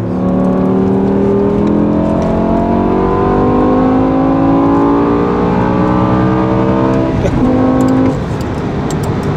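Loud, close engine of a sports car with an SMG gearbox pulling steadily upward in pitch, with a sharp gear change near the end before the revs settle and fade slightly.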